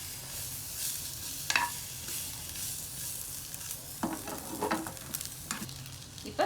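Sausages sizzle in a frying pan while being stirred, a steady fine crackle broken by a few scraping clatters of the utensil against the pan.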